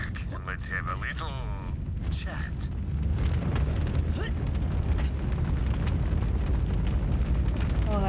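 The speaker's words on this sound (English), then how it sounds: "Oh, that whole place is on fire." A building burns in Borderlands 3 with a dense, rumbling roar and scattered booming bursts that grow louder and steadier partway through, while a voice speaks over it.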